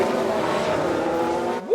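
A Ferrari Formula 1 car spins out in the racing game F1 Manager 22: a steady engine roar and tire noise run throughout, then a rising squeal bursts out at the very end.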